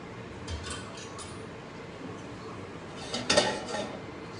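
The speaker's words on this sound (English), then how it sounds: "Take your strainer, go ahead and strain it out." Boiled cauliflower drained through a strainer in a kitchen, faint clinks of pots and metal utensils with a brief louder clatter near the end, close but quiet with no talking.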